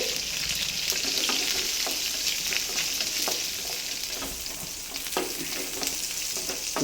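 Garlic and red chilli fry in oil in a pan, giving a steady, dense sizzle with occasional crackles and pops and light stirring scrapes, close and continuous with no talking.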